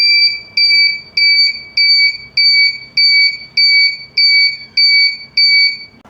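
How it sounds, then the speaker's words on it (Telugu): The piezo buzzer of an Arduino Pomodoro timer with an OLED display sounds when a 15-minute countdown ends, giving about ten loud, close, evenly spaced electronic beeps in a steady on-off rhythm. "15 minutes అయిపోయాక మనకు బజర్ ఎలా మోగుద్దో అది కూడా చూసేద్దాం"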